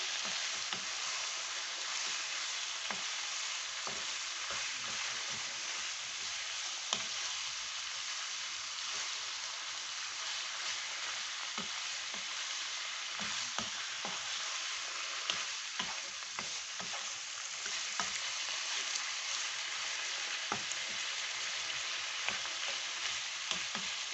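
Beef and onion stir-fried in oyster sauce in a hot pan, a continuous loud sizzle and crackle with frequent scraping taps of the spatula, close up and uninterrupted.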